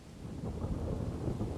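Thunder rumbles low and rolling over steady rain in the medieval video game Kingdom Come Deliverance, a brief continuous storm with no voices.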